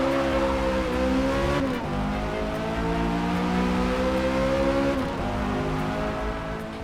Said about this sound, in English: Now there are also really good sounds in Forza Motorsport. There, for example, here is the Corvette